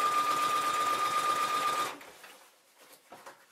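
A sewing machine stitches a hem on a pair of jeans, running in a loud, fast, steady rhythmic whir for about two seconds, then stopping and leaving only faint handling noises.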